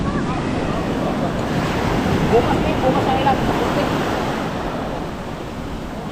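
Large sea waves crashing along the shore, a continuous loud roar of surf mixed with wind buffeting the microphone, with a few spoken words from people nearby.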